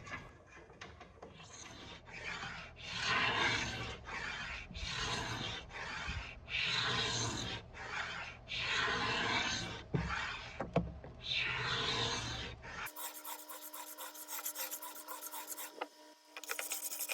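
Rhythmic scraping strokes strip old finish from a wooden furniture piece, about a dozen close, raspy passes at a steady pace, followed by a different mechanical whirring noise near the end.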